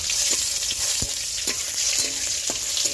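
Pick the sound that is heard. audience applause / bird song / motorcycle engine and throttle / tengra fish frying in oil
tengra fish frying in oil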